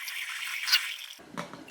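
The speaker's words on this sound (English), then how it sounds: "So I'm going to go ahead and pour the water out." Hot water poured out of a glass French press carafe, a steady splashing stream that drains and turns into a brief gurgle and drip near the end, close and alone.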